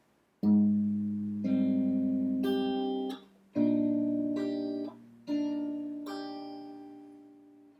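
Fingerstyle guitar playing a passage from a song, with ringing high strings and a third-finger pull-off, in clear plucked groups that sustain and decay, close and alone.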